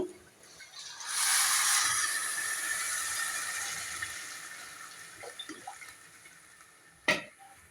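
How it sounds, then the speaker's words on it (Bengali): Water is poured into a pan of hot, browned frying rice, setting off a sudden rushing hiss that gradually fades into a softer simmer, followed by a few faint clinks. No one speaks. "এখন আমি পানি দিব।"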